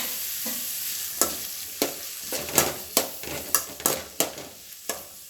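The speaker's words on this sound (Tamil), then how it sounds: "இந்த ஸ்டேஜில் பொடியை நறுக்கி வச்சுருக்க வெங்காயத்தை போட்டுடலாம்." Chopped onions tipped into a pan with ginger and garlic already softening, frying with a steady close sizzle while a utensil stirs and scrapes in repeated sharp strokes about every half second.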